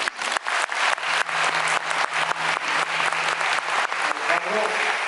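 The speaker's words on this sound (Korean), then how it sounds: "박수 다시 한번" An audience in a theatre auditorium applauds loudly and steadily after a performance, dense clapping filling the room, with a faint voice under it near the end.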